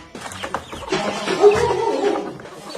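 Chickens clucking close by, a few short soft calls over a low rustling background, fairly quiet and alone without talk.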